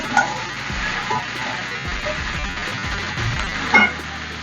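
Bottle gourd fries in a pan for a Bengali curry with gram, sizzling steadily with occasional stirring scrapes. Two brighter clinks ring out near the start and near the end.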